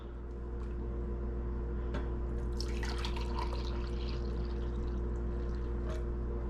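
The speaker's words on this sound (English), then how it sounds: "Now you're going to pour yourself a cup." Hot cocoa poured from a pot into a cup in a home kitchen, a soft liquid trickle with faint splashes over a steady low hum, no voices.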